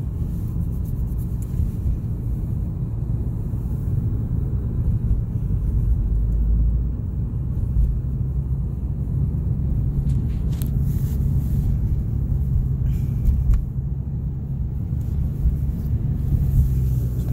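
Car driving on bumpy, snowy roads in St. Albans, Vermont, heard from inside as a steady loud low rumble of road and engine noise with occasional bump thuds, continuous throughout.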